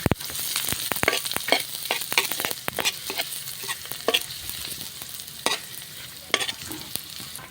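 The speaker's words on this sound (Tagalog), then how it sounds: "gisa na po natin ating chicken" Chicken sautéing with long green chilies for chicken curry, a continuous bright sizzle broken by many sharp spatula scrapes and clacks against the pan.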